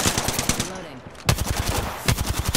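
Rapid machine gun fire in the video game Apex Legends rattles in fast, evenly spaced bursts, with a brief pause in the middle and a voice heard speaking beneath.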